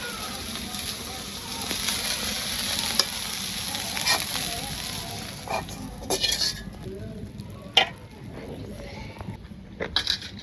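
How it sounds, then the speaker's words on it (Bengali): Soybean chunks fry in a pan, a steady sizzle broken by scraping stirs and metallic clinks of a utensil against the pan, with a voice speaking at times. "আমার সয়াবিন ভাজা হয়েছে আমি নামিয়ে নিই"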